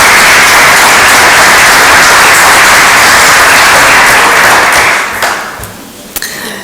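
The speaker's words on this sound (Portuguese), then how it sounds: "Não se coimam de dar uma salva de palmas às mulheres" Audience applause for the women at a book presentation, a loud, dense crowd clapping that holds steady for about five seconds before thinning to scattered claps and a few final taps.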